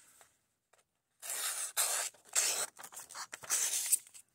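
Paper being sliced with the edge of a RoseCraft Castorea knife: several close, dry rasping cuts in quick bursts with short pauses between them, with no talking.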